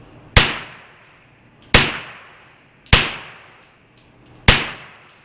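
A Derya TM22 or Kriss Vector 22 rifle fires four loud, sharp shots at an outdoor range, spaced roughly a second apart, each cracking hard and then ringing out and decaying.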